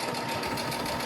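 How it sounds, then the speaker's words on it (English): Sewing machine stitching fabric, a fast, even mechanical whir running close and continuous for the whole moment. "I'm gently maneuvering the fabric as I stitch"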